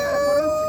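A rooster crows at a poultry market in Kyzyl-Kiya, one sustained, loud, close call with a steady tone holding for nearly a second.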